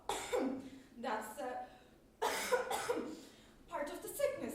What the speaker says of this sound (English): I also have a cough